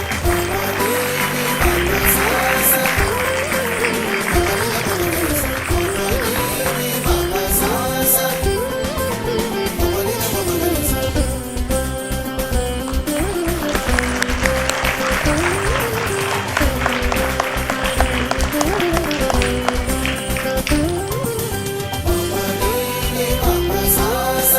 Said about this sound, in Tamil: கரகோஷத்தோடு